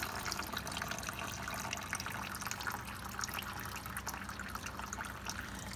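Water runs and splashes steadily as rinsing water drains off soaked wheatgrass seeds, a continuous faint trickling pour with light patters, no voices.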